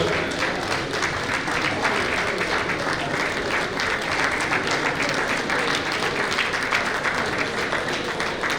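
An audience at a convention in Libreville applauds to welcome an official, producing a dense, steady roar of clapping that stays loud and even for the whole stretch, with faint crowd voices beneath.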